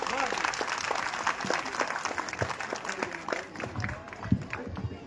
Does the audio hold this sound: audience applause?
yes